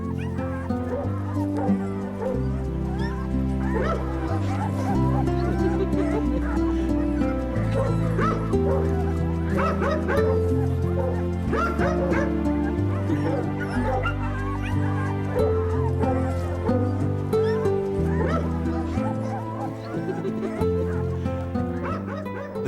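Dog pups bark, yip and whimper in a village setting, the sounds continuous and fairly loud over a steady background of music.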